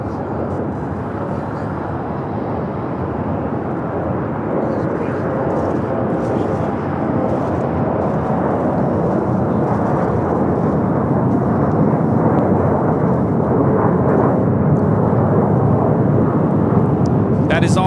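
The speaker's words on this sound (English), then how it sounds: "That is all Nippon Airways Flight 6 coming in from Tokyo Narita on the 787-9 Dreamliner" An All Nippon Airways 787-9 Dreamliner arriving from Tokyo Narita at Los Angeles airport gives a steady, broad jet roar that slowly builds over the full stretch, with someone talking over it.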